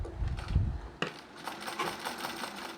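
A sewing machine stitching a Bharatanatyam dhoti, running with a fast, even mechanical whir that starts after a soft rumble and continues quietly at close range.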